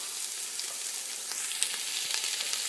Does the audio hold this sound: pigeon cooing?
no